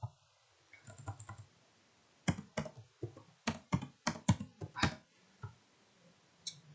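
Computer keyboard typing in short bursts, a scatter of crisp close clicks with brief pauses between, then a quicker run of keystrokes and a final lone tap, fairly quiet with no talking.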